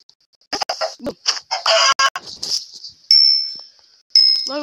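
Minecraft chickens cluck in short, choppy bursts close by, followed by a couple of sustained electronic tones from the game; no speech is heard.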